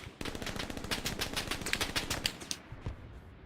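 A machine gun rattles in Hell Let Loose, a long, rapid, steady burst of loud gunfire that trails into a few scattered shots as it stops.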